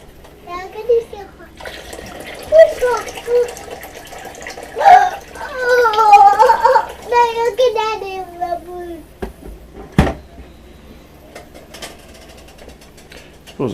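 Hot water runs from a tap, a steady hiss under a person's intermittent talking, with a few clunks and a sharp knock near the end.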